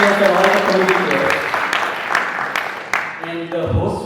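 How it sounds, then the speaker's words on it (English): Applause at a Jain convention all-hands meeting, for volunteers and the community: dense clapping under a sustained tonal background of voices or music, fading slightly before a voice starts at the end. "So give a huge round of applause to yourself, all the volunteers and all the community."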